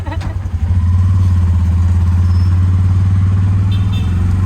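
A tuk-tuk engine drones in a loud, steady low rumble during a ride through Phnom Penh, with a brief voice over it near the start.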